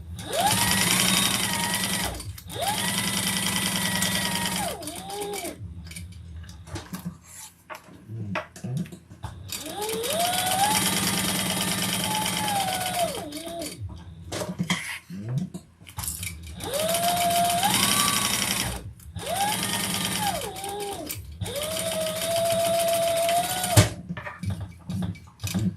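A sewing machine bastes pockets down three sides of a garment, running loud and close in several long, steady bursts with brief pauses between them to turn the fabric, a mechanical whir with faint ratcheting.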